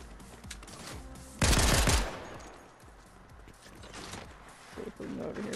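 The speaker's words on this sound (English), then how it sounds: "Everybody's favorite, the pistol. So we'll just see firing." A pistol fires in a video game, one loud short burst of sharp shots standing out against quieter game ambience, with someone talking faintly around it.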